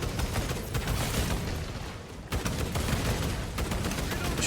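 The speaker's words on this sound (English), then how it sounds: "I think he's got a bolter machine gun now" Sustained bolter machine-gun fire in the Space Marine 2 video game, dense rapid bursts with heavy booming impacts that keep going almost without pause, with a short lull near the middle before the barrage resumes.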